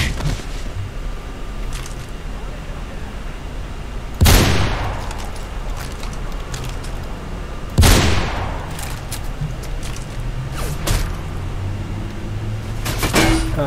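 Gunfire from shooting enemies in the video game Mirror's Edge: two sharp, loud shots several seconds apart, heard over a steady, dense game background with no talking.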